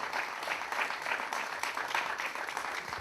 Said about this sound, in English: Bit of a cheer from the other side.